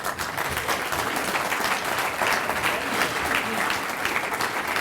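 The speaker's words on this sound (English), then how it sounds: "I give him a round of applause for that" An audience applauds a congressman at a public event, with steady, dense clapping throughout, fairly close and sustained with no pauses.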